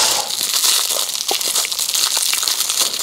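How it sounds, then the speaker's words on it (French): A parcel wrapped in many layers of tape being unwrapped, with continuous close crinkling, crackling and tearing of wrapping material over a few seconds and no talk. "Alors, je déballe, hein, parce que là, il m'en a mis des couches et des couches et des couches."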